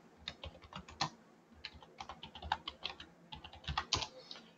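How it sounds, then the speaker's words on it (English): Typing on a computer keyboard to enter a search for roofing contractors, with irregular bursts of quick, close keystrokes and brief pauses between words, no voices. "let's type in roofing contractor"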